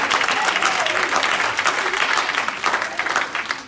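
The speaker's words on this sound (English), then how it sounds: "clap your hands unto God." A church congregation claps hands during a praise service, a dense, steady wash of many hands that continues loud for the whole stretch.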